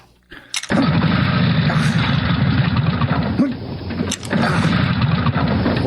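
A broken-down motorcycle is kickstarted but its engine will not start, giving a loud, sustained churning roar up close that cuts out briefly twice before resuming.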